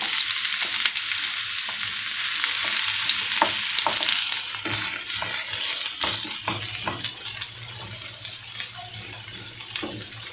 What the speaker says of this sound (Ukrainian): підсмажимо цибульку, дамо соняшникової олії трошки